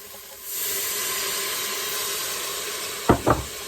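Broth and wine hitting a hot Instant Pot insert during chicken cacciatore, a sudden loud hiss and sizzle that starts abruptly and holds steady, with a few scraping knocks near the end.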